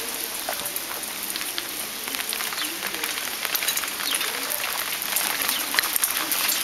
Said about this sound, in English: It's hailing.